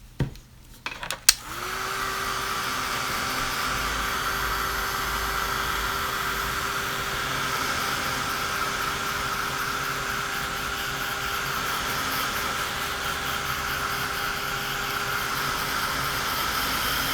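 A hair dryer blasts steadily and close for the whole stretch after a few brief clicks and knocks at the start, giving a light dry to a texture paste on an inky background; there is no talk.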